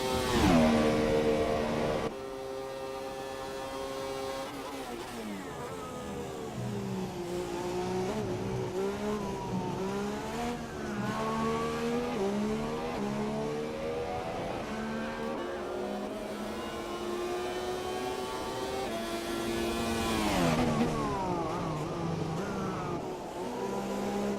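Race car in a sim racing game lapping the Mexico circuit on a fast lap, engine note rising and falling continuously through gear changes and corners, loud and close for the whole stretch with no voices.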